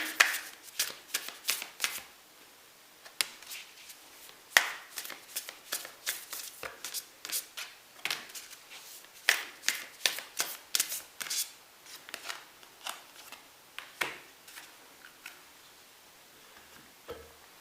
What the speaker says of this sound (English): So I'm going to pull some oracle cards for you